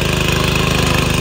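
Sraja rotary power weeder for sugarcane, engine running fast in second gear, a loud steady rhythmic chugging thrum close by with no voices.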